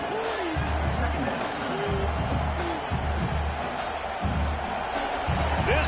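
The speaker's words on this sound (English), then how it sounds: "This crowd bringing the energy and noise early." A stadium crowd keeps up a steady, dense roar during a football game. The noise runs continuously beneath a commentator's voice.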